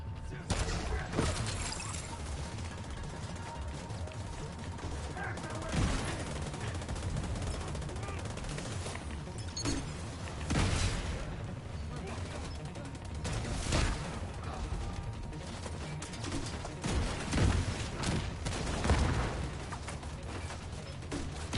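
Gunfire in the video game The Division 2, repeated bursts of rapid shots and automatic fire recurring throughout over a steady game background, with a voice talking at times.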